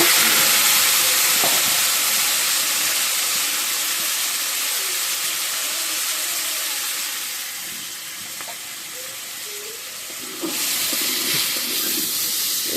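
Potatoes just dropped into a hot pan give off a loud, broad hissing sizzle that eases slightly partway through and then swells again, heard up close with no talking.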